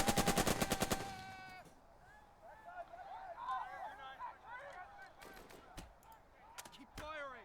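A rapid burst of close gunfire opens a Burden of Command battle, followed by quieter distant scattered shots and a few sharp cracks later.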